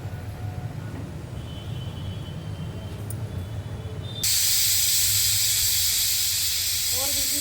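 A pressure cooker cooking mutton curry vents steam: after a low steady kitchen rumble, a loud, sustained hissing rush suddenly bursts out and continues steadily to the end.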